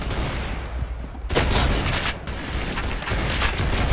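Gunshots in the Roblox-style shooter Arsenal, with steady crackling fire that jumps into a loud burst of sharp shots at around the midpoint, then continues in quicker, dense rattles.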